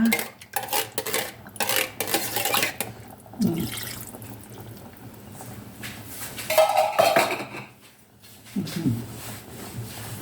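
A pot of coconut-milk chicken curry, simmered for about fifteen minutes, being stirred with metal utensils, with repeated clinks and scrapes against the pot over a low bubbling simmer, close and fairly loud.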